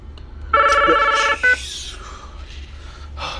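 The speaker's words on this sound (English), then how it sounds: "Sorry, that's the work phone." A work telephone rings with a loud electronic trill lasting about a second, then a brief second chirp, heard close and alone before a quiet room.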